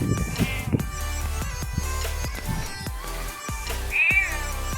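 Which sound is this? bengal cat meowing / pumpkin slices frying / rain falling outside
bengal cat meowing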